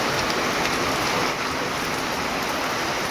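Heavy rain pours down in a steady, dense roar that holds at a constant loudness for the whole stretch, with no voices.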